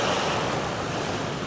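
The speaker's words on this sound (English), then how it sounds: "just a great splash here" Ocean surf washing onto Eagle Beach, a steady broadband wash of breaking waves with some wind rumble, continuous and fairly close for the whole stretch with no voices.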